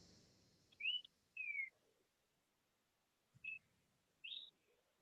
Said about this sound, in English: That is a beautiful bird noise.